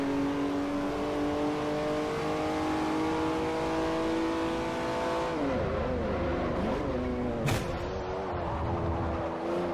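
BMW Z4 engine in the racing game Forza Motorsport 4, holding a loud steady high rev for several seconds before dropping and wavering through gear changes and shifting pitch, with a brief sharp burst near the end.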